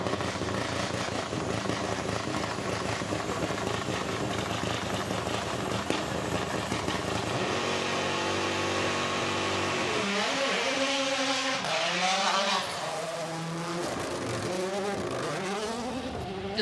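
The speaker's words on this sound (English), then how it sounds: "Just letting you get the full spectrum of sound from this incredible car as we see it plunge back into the forests" A rally car races through a forest stage at Goodwood, its engine roaring then rising and falling through rapid gear changes as it pulls away, loud and alone without talk.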